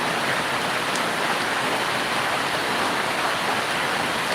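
A Kalbaishakhi nor'wester storm over a farmhouse in Cumilla brings dense, steady rain in a loud, unbroken wash of noise with no distinct gusts or voices.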